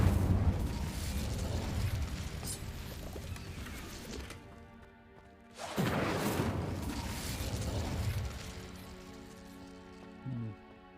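Two bursts of the Incendio fire spell in Hogwarts Legacy: a crackling, rushing whoosh that fades, then after a short hush a second loud flaring burst that dies away, with a small thump near the end.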